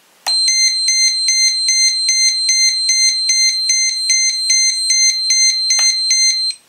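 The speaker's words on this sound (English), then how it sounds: "That's my buzzer locator." An XGlow Pro glow ignitor's location buzzer beeps loudly in a rapid, even pulsing pattern for several seconds, alone with no talk, ending abruptly.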